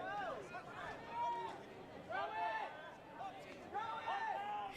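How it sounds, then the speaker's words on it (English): Sideline spectators yell and cheer at an ultimate frisbee championship final, with several excited voices shouting in waves at moderate distance over an open field. "You hear the sidelines and the crowd yelling, throw it."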